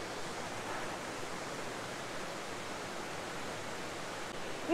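Kanba Falls in Okayama, Japan, one of the country's hundred noted waterfalls and among the largest in western Japan, gives a steady, full rushing roar of falling water that holds level throughout with no voices.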